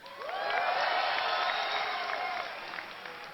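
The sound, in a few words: BlizzCon crowd cheering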